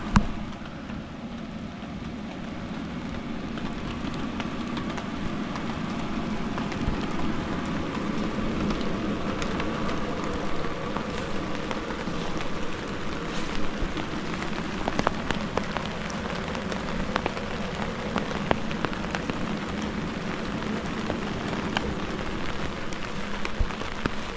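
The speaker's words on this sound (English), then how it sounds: "we're gonna have to run out in the rain for this. Not raining real hard." Steady light rain falls on an inflatable tent in the mountains during a winter storm, a constant close patter on a surface with occasional heavier drips and no voices.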